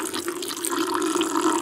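Water mixed with oil bubbling and spewing out of a flooded motor, a steady close liquid gurgle and splash running continuously with no talk.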